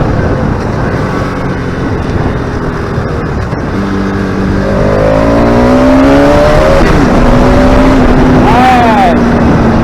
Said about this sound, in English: the sound of the RS200 just has character to it